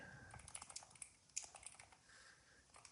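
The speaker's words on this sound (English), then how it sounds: "I'm just kind of sick of typing." Quick, irregular keystrokes on a computer keyboard while coding a to-do app, close and fairly quiet, with clustered taps and brief pauses, no talking.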